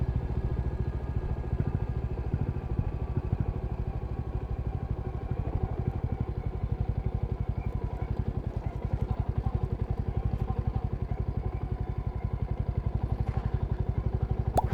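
A Royal Enfield Classic motorcycle rides off-road with a loud, close single-cylinder thump, a rapid, regular beat of exhaust pulses over rough clatter that keeps up steadily throughout.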